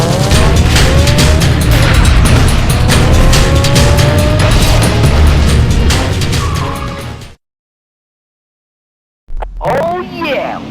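Race car engine from the Need for Speed Carbon video game revving hard and roaring loud for about seven seconds, with rising gear-shift whines, then a sudden cut to silence before a brief swell of sound returns.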